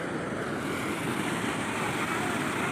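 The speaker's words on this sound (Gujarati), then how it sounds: "અને અહીં એક ધોધ પડે છે" A waterfall where fish sometimes leap pours with a steady, unbroken roar of rushing water, dense and fairly loud throughout, with no voices over it.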